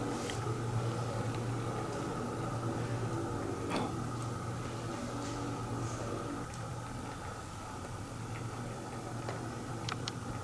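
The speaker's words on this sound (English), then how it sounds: "Oh, and a clock just started ticking." Clock ticking in a dark room of a reputedly haunted former seminary building in Ohio, a faint steady tick over a constant low hum and background noise, with no voices.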